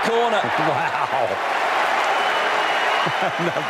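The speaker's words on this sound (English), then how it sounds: "And applause by Djokovic." Crowd applause sweeps through a tennis stadium during a Roland-Garros men's final between Djokovic and Tsitsipas, a steady dense wash of clapping with brief commentator talk at the start and end.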